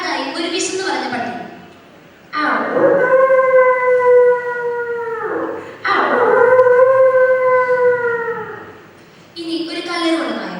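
A mimicry contestant at the Kerala State School Kalolsavam imitates a hungry dog howling with her voice: two long, loud, wavering howls of several seconds each, framed by shorter whines.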